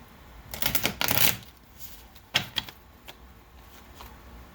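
Close riffling bursts of tarot cards being shuffled, a long flurry followed by a few shorter quick riffles, in a quiet room.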